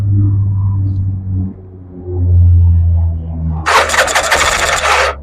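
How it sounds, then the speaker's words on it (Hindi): Car engine fitted with a gas injector, cranked by its self-starter in a workshop; a low idling rumble gives way to a loud, broadband burst of cranking and catching near the end. "गाड़ी में सेल्फ लगाओ भाई जरा।"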